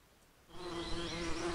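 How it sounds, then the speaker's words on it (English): A bee buzzes alone, starting after a brief quiet moment and then holding a close, steady drone at one pitch. "We could think of sensation as hearing a buzzing sound and perception as recognizing it as a bee."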